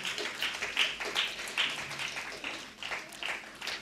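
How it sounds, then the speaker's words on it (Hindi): Audience applause at a theatre award ceremony welcoming a guest onto the stage, a moderate wash of clapping that stays steady with small swells and never stops. "मैं चाहता हूँ ज़ोरदार तालियों से स्वागत श्री रविंद्र किशोर सिन्हा साहब का"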